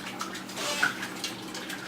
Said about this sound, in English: we're going to pour that through a colander here and just let it drain for a while until we're ready for it